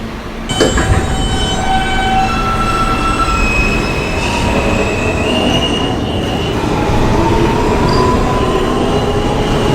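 A Queens-bound R train on the New York subway moves along the track with loud, continuous rumbling, squealing wheels and clattering heard close up from inside or beside the train.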